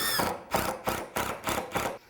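Six short bursts of a power driver whirring as screws are driven into soft wood decking, each a second or so apart, rising and cutting off in a steady rhythm, close by with no talking.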